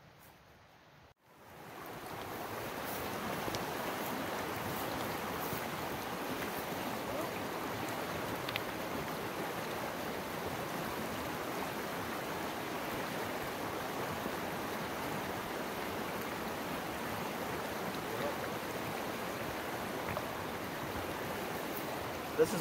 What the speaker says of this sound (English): because of monsoon season, a bunch of water is coming down through it